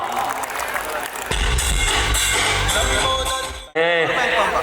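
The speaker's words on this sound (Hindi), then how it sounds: "एक बार जरा जोरदार तालियां बजा दीजिए, कम ऑन ना।" A wedding sangeet audience applauding and cheering loudly, a dense sustained burst that cuts off abruptly, followed by a voice over the continuing crowd.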